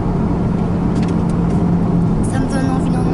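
A Ferrari on a road driving course makes a continuous engine hum and road noise at close range, with people talking over it.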